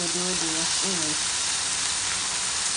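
Scallops searing in a hot pan give a loud, steady close sizzle and hiss, with a voice talking briefly over it at the start.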